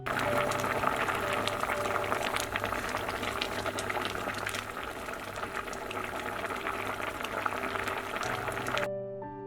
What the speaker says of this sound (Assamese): মোৰ এইখিনি ধুনীয়াকৈ উতলি আছে।